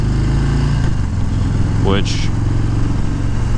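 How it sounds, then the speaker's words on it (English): A Harley-Davidson Breakout with a Milwaukee 8 114-cubic-inch engine runs with a loud, close, steady rumble throughout, with a brief rising rev partway through, while someone talks over it. "this new Milwaukee 8 engine, 114 cubic inches, makes for really fun zipping through"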